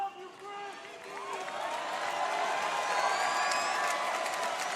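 Wrestling crowd at an AEW Dynamite broadcast cheers and roars in a big arena, a swelling wash of shouts and whoops that builds and holds loud throughout, with a few tonal calls rising above it.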